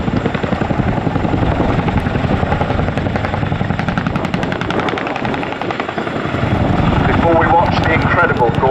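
A Boeing Chinook twin-rotor helicopter of the Royal Air Force at an air show, with a loud continuous rotor thump and engine roar close by that dips briefly and then swells again.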